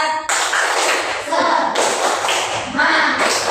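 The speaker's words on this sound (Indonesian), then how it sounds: "Tepuk semangat." A third-grade class in Indonesia claps rapidly in a rhythmic spirit-clap pattern, loud and close, with short pauses between bursts of claps.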